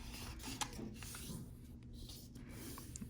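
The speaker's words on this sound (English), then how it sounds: "Make precise folds and crease sharply." Paper being folded and creased into an origami crane: soft, close rubbing and light scraping strokes with a few small crisp ticks, quiet and continuous over a faint steady background hum.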